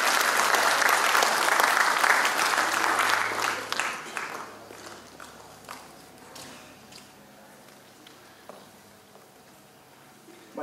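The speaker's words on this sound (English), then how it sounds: "May you please give a round of applause for Edmund Fehoko." An audience at a Tongan community celebration applauds loudly for several seconds, then the clapping thins out and fades to scattered claps.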